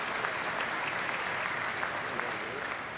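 A crowd at the Fort Garry Curling Club applauds a shot during a curling skins game final, with steady, sustained clapping filling the whole stretch.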